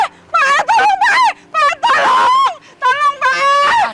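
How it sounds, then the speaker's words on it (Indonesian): A woman screaming in a dramatic Indonesian TV serial scene, a series of loud, close, wailing shrieks broken by short pauses, with the pitch rising and falling. "Ada yang teriak. Suaranya dari arah sana."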